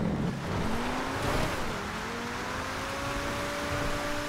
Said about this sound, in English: And I get to drive this McLaren